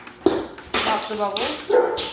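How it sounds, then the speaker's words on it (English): Excited dogs bark a few times in the background while a person talks over them. "Sorry if you hear my dogs, they just went outside and they're super excited."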